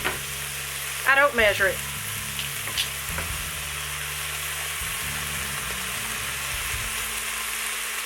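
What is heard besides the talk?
garlic frying and sizzling in a pan for Thai chicken soup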